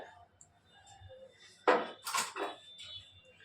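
A spice-grinding bowl being washed in a kitchen, with a few sharp clattering knocks and scraping clinks of the vessel, close and moderately loud against a quiet background.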